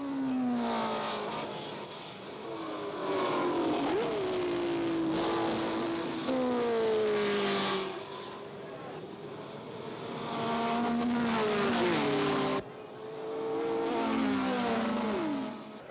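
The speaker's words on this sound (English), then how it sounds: "Coming up the main straight now is number 4, Jean-Pierre Sarti's Ferrari in 14th place" A Ferrari racing car roars up the main straight of a Grand Prix circuit, its engine note rising and falling through gear changes as it passes at close range, loud and sustained without speech.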